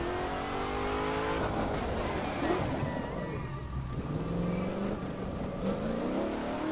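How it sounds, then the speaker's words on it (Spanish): Shelby GT500 engine in the racing video game The Crew 2, a continuous revving roar that rises and falls as the car accelerates, steady and prominent with no talk. "Vamos a escuchar aquí un poco con esta cámara que se oye mejor el motor."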